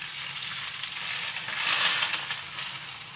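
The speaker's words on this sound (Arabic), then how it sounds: "راح اخلي الزيت الساخن فوقها، بس يكون يعني لازم يكون ساخن كثير." Very hot oil poured over cooked fava beans sizzles with a soft, broad hiss that swells briefly midway and then settles, with no voices.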